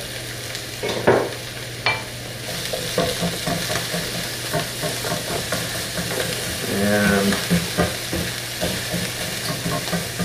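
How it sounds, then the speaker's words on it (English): Onions sizzle and crackle steadily in hot olive oil, with occasional scrapes and stirring clatter from a utensil in the pan; a voice briefly speaks. "Hear that nice sizzle?"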